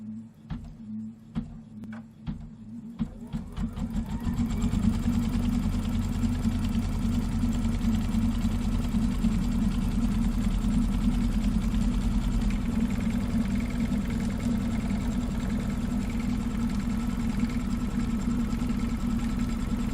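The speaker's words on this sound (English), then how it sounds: "So we're ready to stitch out the placement line" A large-hoop embroidery machine stitches out a placement line for batting in pale yellow ivory thread, starting with a few separate clicks and then settling into a loud, steady, close mechanical whir without any speech.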